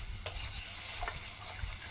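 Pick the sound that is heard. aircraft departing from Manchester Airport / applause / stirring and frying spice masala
stirring and frying spice masala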